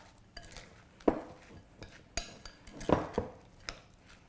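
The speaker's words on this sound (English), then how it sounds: "I just want to mix this until everything's blended really well" Utensil scraping and clinking against a bowl as black bean recipe ingredients are mixed together, a few irregular close taps and scrapes, fairly quiet with no talking.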